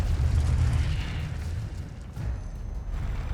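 Incendio fire spell cast in Hogwarts Legacy, a low rumbling whoosh and burst that swells loudly, dips briefly, then surges again over about three seconds.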